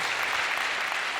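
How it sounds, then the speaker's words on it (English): An audience at a national conference gives a round of applause for young adults, a steady wash of clapping heard at a moderate distance without a break. "can we have a round of applause for them?"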